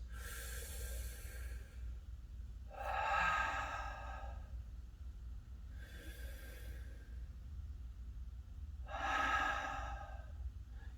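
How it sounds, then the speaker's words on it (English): Deep breaths during a taekwondo warm-up exercise: four slow, close inhales and exhales spaced a few seconds apart, heard alone with no talking. "Deep breaths."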